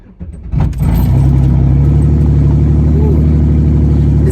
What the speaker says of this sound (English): This car's loud.